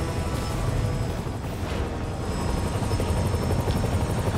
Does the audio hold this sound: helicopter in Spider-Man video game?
yes